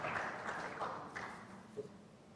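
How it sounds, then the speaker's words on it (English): Audience applause for a panel on a dais at a live event on digital payments, a quiet, diffuse patter of clapping that fades gently with a few louder isolated claps. "Ladies and gentlemen, a big round of applause to our distinguished panel"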